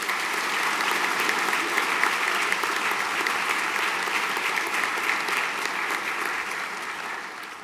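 Sustained applause from an audience at a senior school prizegiving, dense and steady clapping that continues alone for several seconds before easing slightly at the end.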